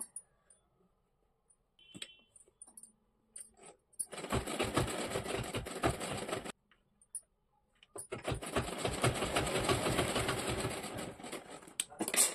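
Sewing machine stitching the hem of a saree, running in two loud continuous bursts of several seconds each, separated by a short pause, with light clicks and handling sounds before it starts.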